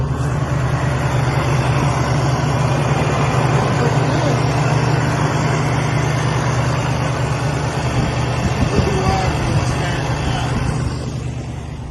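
An old car engine idles steadily, a continuous low rumble with a faint rattle that holds even and loud before easing slightly at the end, with no voices over it.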